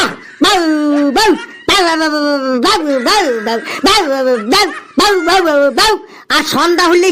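A voice imitates a dog barking in a comic Bengali routine, with a run of repeated bark-like yelps in quick bursts separated by short pauses, loud and close.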